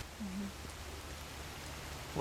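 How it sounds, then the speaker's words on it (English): Steady rain patters as a soft, continuous hiss, fairly quiet and even, with a faint voice briefly murmuring underneath. "Rain's picking up again."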